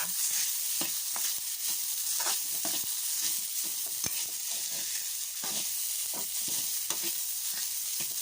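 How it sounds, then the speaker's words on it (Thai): Rice mixed with shrimp paste is stir-fried in a pan with a steady sizzle, broken by repeated scraping and tapping strokes of the spatula in an uneven rhythm, close up and with no voices. "ก็เลยทดลองเอามาลองผัดดูนะคะ"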